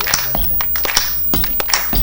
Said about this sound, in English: All right, yeah, get it right, clap it.